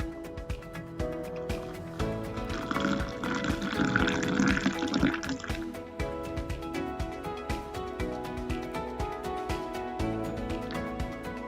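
Boiled milk poured into a cup of coffee in a home kitchen, a steady liquid stream that swells for a few seconds and then settles into trickling and dripping, with no talking.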